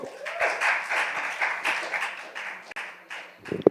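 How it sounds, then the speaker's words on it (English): Clapping from a youth gathering audience rises quickly, then swells and fades in uneven waves of many hands before tapering near the end, with a brief thump at the close. "Clap it up for him, y'all."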